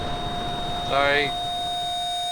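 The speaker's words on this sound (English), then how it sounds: "Sorry for the headphone users if you heard that ringing in your ears." In the Enderal video game, a steady high-pitched ringing tone holds throughout, with a brief louder buzzing swell near the middle, over a quiet background.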